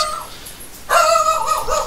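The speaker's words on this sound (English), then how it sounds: "We have barking dogs in the background. Lots of barking dogs." A dog gives a high, drawn-out yelping bark after a short quiet stretch, fairly close and clear, with no one speaking.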